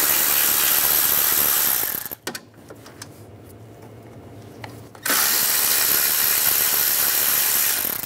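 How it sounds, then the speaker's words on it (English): A ratchet turning a 10mm socket on bolts during AC condenser replacement on a 2006-2009 Mercedes-Benz E350 gives a fast, loud, close clicking that runs for about two seconds, stops during a quieter gap, then resumes steadily to the end. "On the side, these three bolts, use a 10mm socket."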